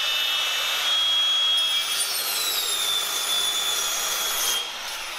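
Handsaw cuts through a wooden spacer in a home recording studio build, a continuous close rasping stroke that runs steadily for several seconds and then eases off.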